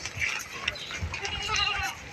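A pregnant goat on a farm bleats several times in quick succession, close and fairly loud, over a steady background hum, with no one speaking.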